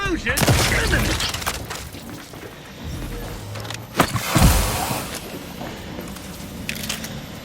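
Explosions and gunfire in the sci-fi video game The Outer Worlds 2, with several loud booming blasts and crackling debris bursts, strongest around the middle, over a continuous noisy game-combat background.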